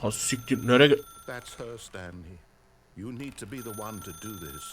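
A telephone rings in The Stanley Parable video game, a steady electronic ring sounding beneath near-constant speech, with voices talking over it throughout.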